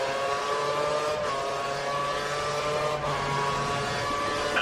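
A race car engine held at full revs in a racing video game drones steadily and loudly throughout, a constant high-pitched whine with no let-up and no talking.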